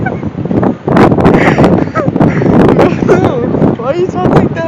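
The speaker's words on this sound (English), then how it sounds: "This is so windy. It's way too windy." Strong beach wind buffets the microphone at Pismo, producing loud, continuous rumbling gusts and roaring bursts, while people talk over it close by.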